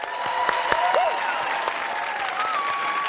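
Loud, steady applause from a large high school quiz show audience with scattered cheers and whistles rising above it, continuing throughout.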